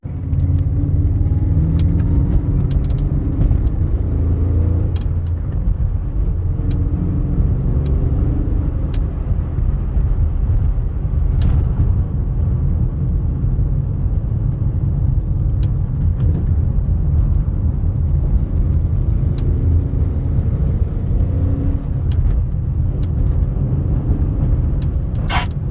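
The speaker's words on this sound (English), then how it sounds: "Definitely rubbing quite a bit in the rear." Rear tires rubbing on a BMW E39 M5 Dinan S1 with 340,000 miles, under a loud, steady road and engine rumble from inside the moving car that runs throughout with no talk.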